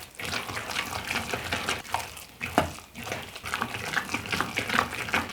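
Wet stirring of creamed corn cornbread batter for gluten-free bacon jalapeno cornbread, an uneven run of squelching, sloshing strokes in a bowl with no talk.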